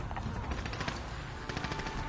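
Rapid automatic gunfire in a multiplayer Headquarters match of Call of Duty: Modern Warfare, sharp repeated bursts in a steady rattle with clusters of shots around the start and near the end, fairly loud throughout.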